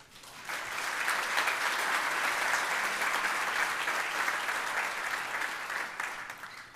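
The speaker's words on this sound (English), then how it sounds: "Will everyone join me in one more round of applause?" An audience at the 51st annual Michigan Week community awards ceremony breaks into applause, a dense roomful of clapping that swells quickly, holds steady for several seconds, then begins to taper off.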